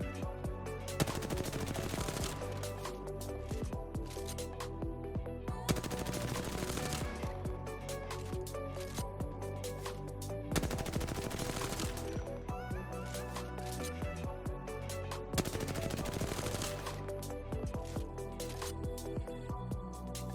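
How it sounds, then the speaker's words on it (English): Four long bursts of rapid automatic gunfire from a video game weapon, each emptying a full magazine, loud and continuous, separated by brief pauses for reloading. "So let's shoot 4 magazines of this weapon"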